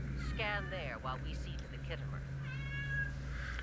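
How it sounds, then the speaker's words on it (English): A cat named Rowan meows several times nearby, drawn-out calls rising and falling over a steady hum, while a voice talks through part of it. "That's my cat."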